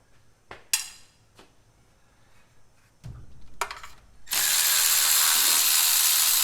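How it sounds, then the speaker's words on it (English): A hand ratchet clicks in short bursts while loosening 7/16 valve cover bolts on a 1970 Chevy C10, then metallic clatter and a sustained loud hiss of mechanical noise close by. "So I'm going to go ahead and pull these off"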